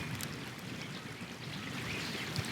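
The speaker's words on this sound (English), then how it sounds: "you can hear that sound of that water trickling into this one" After a downpour, water trickles and runs into a garden swale, a soft, continuous burbling flow heard close by and alone, with faint splashy detail on top.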